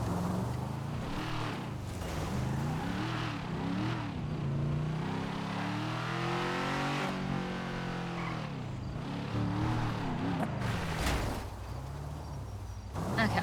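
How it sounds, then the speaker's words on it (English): Car engine in GTA roleplay on the NoPixel server, revving and shifting pitch while driving, with steady motor noise throughout and a person talking over it at times. "I forgot how to drive this car."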